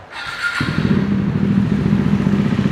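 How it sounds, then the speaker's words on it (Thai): A 2020 KTM Duke 390 fitted with an Austin Racing aftermarket exhaust starts up and settles into a loud, close, steady rumbling idle with slight throttle rise. "คันนี้มาเพราะว่าท่อแต่งจากออสตินเลสซิ่งเป็นของแท้ครับ มาให้ด้วยครับมาฟังเสียงท่อคันนี้กัน"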